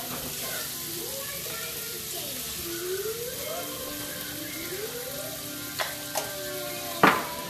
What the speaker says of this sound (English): We just want to cook this down just until the garlic starts to, you know, brown just a hair.